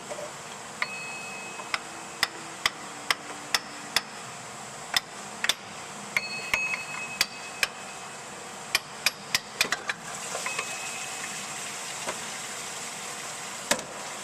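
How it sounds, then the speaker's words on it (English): Sharp metallic hammer taps ring out one after another, irregular and close, as a small hammer knocks the water pump loose from a Ford Expedition 5.4L engine, with no talking. "A lot of left and right tapping with the hammer, and it came out."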